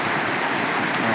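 Water rushes steadily near the Khodiyar temple, a loud, continuous broadband wash with no breaks or voices.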